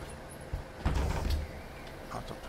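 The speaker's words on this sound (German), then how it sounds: "Hintere Tür geht automatisch." A bus rear door in OMSI 2, the Bremen Nord map, opens automatically at a stop, giving a short pneumatic hiss and a low mechanical rumble that lasts about half a second before fading into the idling bus.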